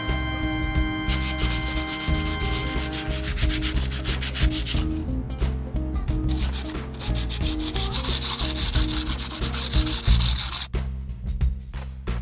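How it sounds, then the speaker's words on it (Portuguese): Very fine sandpaper rubbing back and forth on the bridge of a Golden Les Paul electric guitar, close and steady, rapid rhythmic scratchy strokes with brief pauses. "Agora uma limpeza na ponte, um desengripante e uma lixa bem fina."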